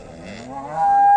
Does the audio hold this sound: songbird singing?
no